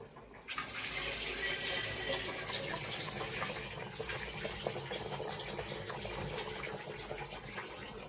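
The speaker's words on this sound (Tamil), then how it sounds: "இதில் இருக்கிற தண்ணி வெளியில் எடுத்துடலாம்." Water being drained from a pot of basmati rice, a steady pouring, splashing flow that starts abruptly after a short quiet moment and runs continuously at moderate volume, with no talk.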